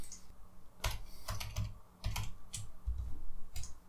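Keys clatter on a computer keyboard as a file name is typed into a save dialog in ArcGIS Desktop, in several quick bursts of close, crisp clicks with short pauses between them.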